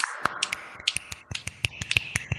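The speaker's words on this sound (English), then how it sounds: "Snaps." A crowd snapping fingers at an open studio conversation event, a rapid scatter of sharp, crisp snaps from several people, irregular and overlapping, close and loud.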